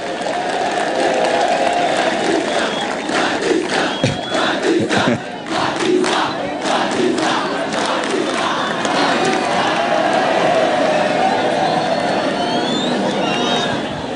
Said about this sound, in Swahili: Aya, tumpigie makofi